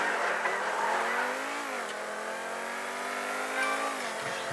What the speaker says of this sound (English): I'm going to have to use a super car.